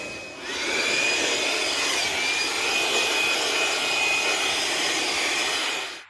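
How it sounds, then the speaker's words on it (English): A small blower blasts rat nest debris out of a tractor, a loud, steady whooshing roar with a faint high whine that starts abruptly and holds until it cuts off at the end. "Let's see if my little blower can blow some of this stuff out"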